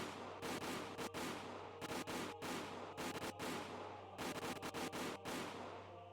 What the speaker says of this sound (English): The sounds of gunshots echoed in the silence.